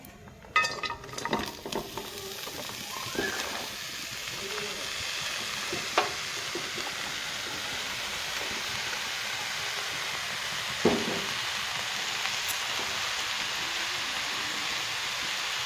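Thinly cut bottle gourd in a pan set on the stove: a few clattering knocks at the start, then a steady, close hiss of simmering water that keeps going evenly to the end.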